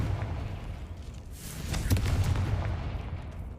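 A Confringo blasting spell from the Hogwarts Legacy video game bursts with a sharp crack and a deep rumbling boom, set against a continuous low roar.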